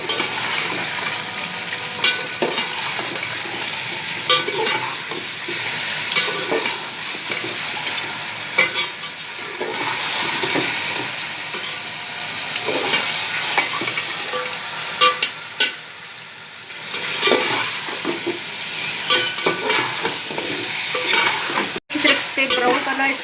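Chicken frying in a pot for korma, a steady crackling sizzle with repeated scraping and stirring of a utensil against the pan, close and continuous.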